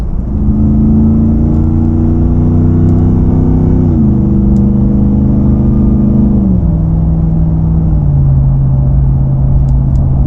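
Loud, steady engine drone and exhaust rumble of a RAM 1500 TRX pickup with a high-performance mid pipe cruising on the highway, pitch stepping down a few times as gears or speed change.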